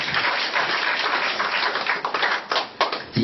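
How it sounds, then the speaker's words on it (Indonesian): A church congregation applauds during a sermon, a dense, steady wash of many hands clapping that fills the space and continues throughout without speech. "Beri tepuk tangan."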